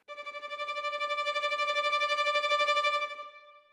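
Fast tremolo bowing on a SWAM virtual violin played from a ROLI Seaboard: a single sustained bright note with rapid, even pulsing repeats, swelling in quickly and fading over about three and a half seconds, played alone with no talk.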